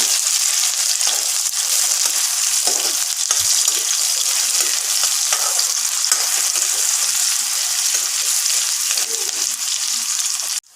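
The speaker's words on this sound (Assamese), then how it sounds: "পিঁয়াজখিনি অকণমান সময় মই এনেদৰে ভাজি ল'ম, অলপ ৰঙচুৱা হোৱালৈকে।" Chopped onions frying in a pan, a dense, steady sizzle of hot oil heard up close, with occasional stirring scrapes and no talking.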